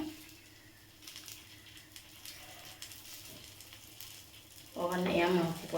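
Kuzhi paniyaram batter fries quietly in a dimpled pan, with a soft sizzle and a few light scraping taps as the pieces are flipped, then a louder burst of sizzling near the end.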